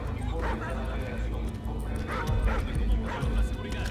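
A dog barks, yips and whimpers in the game Call of Duty: Ghosts, the sharp calls repeating through the clip over a dense, constant bed of game noise.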